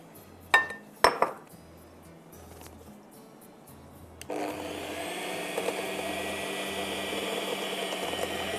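Cream and cream cheese are beaten with caster sugar, starting with a few sharp clinks of utensils against a bowl, then a steady whirring electric mixer hum that runs continuously for the rest of the stretch.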